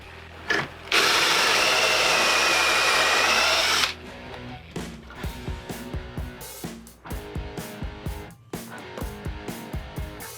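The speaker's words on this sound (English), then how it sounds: "So we got to drill some holes." A power drill whines loudly for a few seconds boring holes into the ends of wooden boards, then a series of short knocks and clunks follow, close and without talk.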